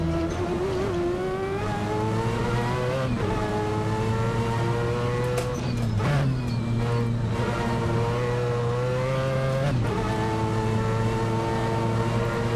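Mazda 787B race car at the Nordschleife in Assetto Corsa, a loud high-pitched rotary engine wailing as it accelerates through several gear changes, pitch climbing then dropping at each shift, steady and close, no talk.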